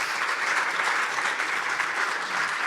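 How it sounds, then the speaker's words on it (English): An audience at a farm bill listening session gives a round of applause, a dense, even roar of many hands clapping continuously without pause. "if we could all give the team a round of applause"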